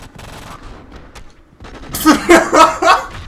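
Burst of rapid gunfire in the action video game Enter The Matrix, loud and clustered over the second half after quieter game ambience and faint talk.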